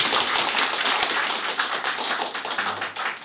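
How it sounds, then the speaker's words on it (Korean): A church congregation at a Sunday service claps together to welcome a new member, a sustained burst of many hands with fairly close, crisp, irregular claps that fade slightly toward the end. "우리 다 같이 박수로 환영하겠습니다."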